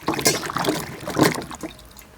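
Chopped tapioca pieces being washed by hand in a bowl of water, with close splashing and sloshing bursts and trickles as the pieces are swirled and rinsed.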